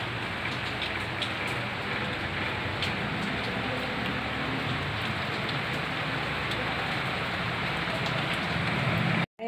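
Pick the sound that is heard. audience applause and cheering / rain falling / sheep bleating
rain falling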